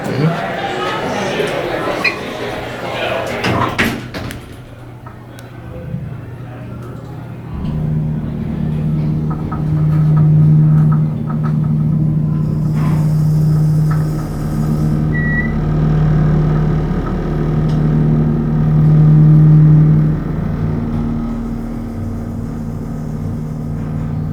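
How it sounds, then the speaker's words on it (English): A ThyssenKrupp hydraulic elevator motor at a Las Vegas resort hums low and steady, with a droning pulse heard from inside the moving car, after people talk at the start. "Wow, that's a nice motor."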